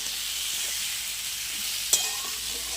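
Muri ghonto, fish heads cooked with rice and potatoes, sizzles steadily in a pan as a close, even hiss, broken by a brief clink of utensil near the end.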